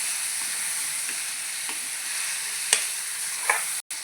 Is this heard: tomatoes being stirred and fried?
yes